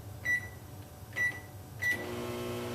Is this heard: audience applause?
no